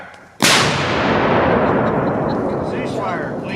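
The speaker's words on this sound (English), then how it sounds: "that's what a cannon looks like when it goes boom" A cannon fires a single loud, close blast that rolls into a long rumbling decay lasting several seconds.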